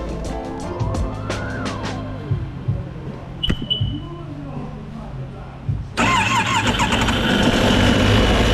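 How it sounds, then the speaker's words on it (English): Offshore Yamaha jet ski engine cranking and trying to start, a whirring crank followed by a rough loud running engine noise that persists to the end, close up, with some talk. "we got it to turn over. Now we have to figure out if it starts."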